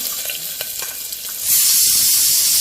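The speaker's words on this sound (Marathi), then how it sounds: "तापलेलं आहे त्याच्यामध्ये एक पळी तेल घालणार आहे ओके त्याच्यामध्ये एक आपण कापल्याला कांदा घालणार आहे" Chopped onion dropping into hot oil in a pressure cooker, for a village-style goat intestine fry: light scraping and clinks, then a sudden loud, sustained hissing sizzle that holds steady to the end.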